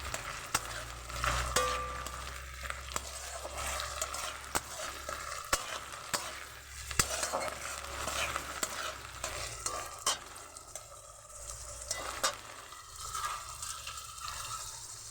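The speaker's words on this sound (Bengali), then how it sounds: "আদা রসুনটা ভালো করে আমি ভেজে নেব।" Ginger and garlic fry in a pan while a spoon stirs them, a soft continuous sizzle broken by repeated scraping strokes at an unhurried rhythm, fairly quiet and with no voices.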